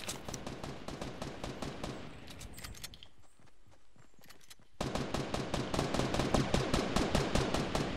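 Rapid automatic gunfire in the video game Fortnite, dense rhythmic bursts that stop briefly midway and then return louder, with no talking over them.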